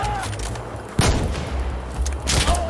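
Scattered gunfire in the Insurgency Sandstorm video game, fairly distant and muffled, with a sharp shot near the middle and another cluster toward the end over a low background rumble.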